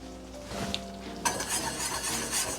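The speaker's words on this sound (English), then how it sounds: "let it cook, simmering on low for about 10 minutes" Homemade enchilada sauce simmers in a pan on low heat, giving a steady close bubbling sizzle that brightens and thickens partway through, with light scraping of a utensil against the pan.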